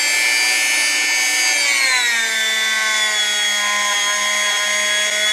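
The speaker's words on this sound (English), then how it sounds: "These hard felt polishing wheels that I buy from Amazon really are marvelous for this detail work." A hard felt polishing wheel spins steadily against metal loaded with polishing compound, a loud continuous whine whose pitch drops partway through as the wheel loads up and slows, then holds steady to the end.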